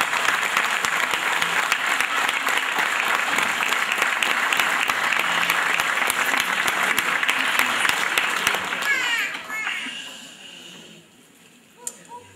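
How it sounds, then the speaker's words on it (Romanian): An audience in a concert hall applauds an orchestra at a Ziua Dobrogei celebration concert, dense steady clapping for about nine seconds before it fades and thins out to a few last claps. "Aplauze pentru orchestra minunată."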